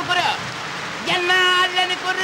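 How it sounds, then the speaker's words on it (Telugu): Rain pouring during an outdoor comedy scene in a Telugu film, a steady wet hiss running under loud voices. "వర్షం వచ్చేస్తున్నాడు"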